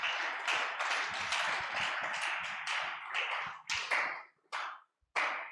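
A church congregation claps during a pastor's sermon, a soft run of dense clapping that thins into a few scattered final claps with brief gaps before stopping.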